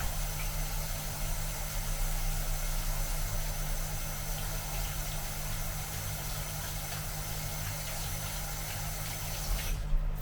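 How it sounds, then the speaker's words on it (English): Hands rinsed under a running tap make a steady, even rush of water that holds at a constant level throughout, with no talk over it. "Clean my hands off real quick."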